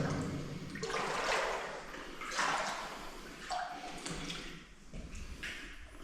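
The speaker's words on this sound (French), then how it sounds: "si on marche dans l'eau, c'est pire" Rubber boots sloshing and splashing through standing water in a flooded bauxite mine, several uneven wading steps with watery surges close by, some faint voices.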